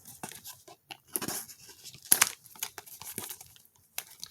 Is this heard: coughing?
no